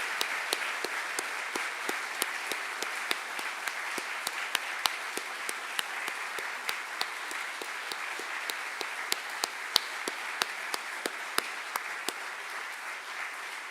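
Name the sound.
audience applauding alumni award winners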